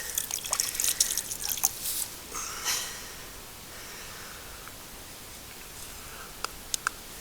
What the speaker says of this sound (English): It's like a really clear water coming out.